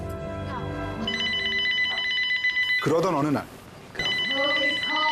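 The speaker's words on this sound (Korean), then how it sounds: "그의 정치 인생의 변곡점이 될 한 통의 전화가 걸려오는데요" A telephone rings in the political drama film Vice, its electronic bell trilling in bursts over a calm narrator's voice, with a brief stretch of tense film dialogue cutting in between rings.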